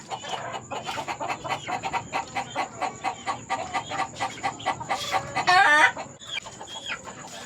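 Alabama and Spartan cross stag rooster clucking steadily in quick repeated notes close by, with a louder squawk partway through.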